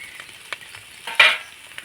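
Pieces of fried paneer tip into a pan of cooked-down masala for a potato-paneer breakfast dish and get stirred, giving a short burst of sizzle amid soft scraping, with no talk.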